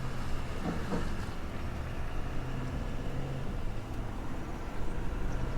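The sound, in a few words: 2021 Ford F450 Platinum truck accelerating while towing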